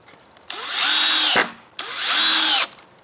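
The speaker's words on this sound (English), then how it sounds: "And then we're going to put 2 more screws in." Power drill driving screws into pallet wood for a pallet wall, two loud, close whirring bursts of about a second each, rising and winding down with a short gap between them.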